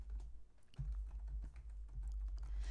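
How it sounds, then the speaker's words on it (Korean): Soft, quick keystrokes tap on a computer keyboard in irregular bursts over a low background hum, fairly quiet and close. "문제 제시된 나, 날짜를 그냥 직접 키보드를 이용하셔서 입력해 주시면 됩니다"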